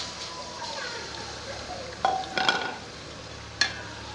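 Large beef pieces for nihari fry in warm oil while being stirred, a low steady sizzle broken by a few sharp clinks and scrapes of a spoon against the pot, close and without talking.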